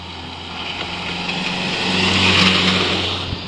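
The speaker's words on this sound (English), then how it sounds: "And here comes a car." A car on a quiet road approaches and passes, its engine noise swelling to a peak before easing off, over a steady low hum close by.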